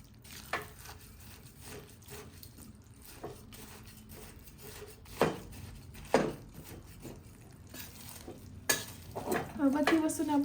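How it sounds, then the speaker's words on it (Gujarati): Jaggery mixture for katla laddu being stirred in a pan, with a steady scraping and sizzling texture and several louder spoon knocks against the pan, close up and without talk. "હવે બધી વસ્તુને આપણે પ્રોપર એક મિક્સ આપી દઈશું."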